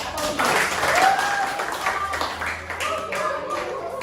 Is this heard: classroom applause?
yes